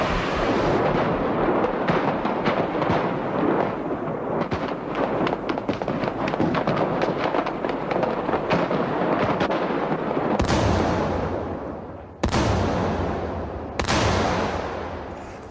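Rocket-propelled grenade attack on a motorcade, dense crackling gunfire and blasts for about ten seconds, followed by three sharp, loud explosions at intervals, no voices.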